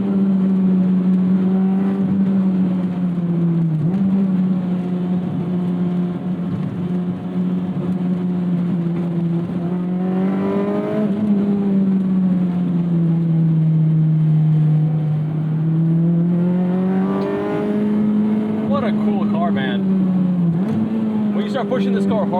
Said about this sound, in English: You can hear that VTEC crossover point right at 55.